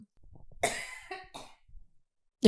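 A couple of close, harsh coughs, followed by a quieter pause and then another abrupt cough at the end.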